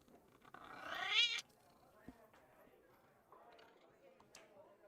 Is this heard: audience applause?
no